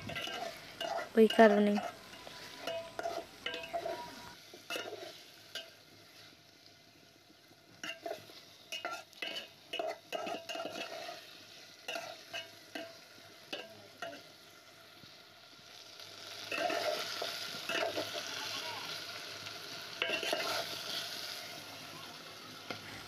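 Marinated chicken with ginger is stirred and scraped in a pan over a clay oven, with repeated bursts of stirring strokes over a low sizzle; a brief remark is spoken partway through.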